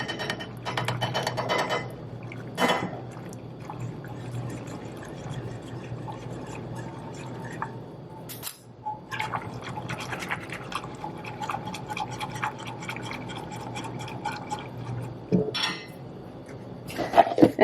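A whisk scrapes and clinks steadily in a bowl as powder is sprinkled into a mixture for brisket enchiladas, a continuous close rattling with a few louder knocks.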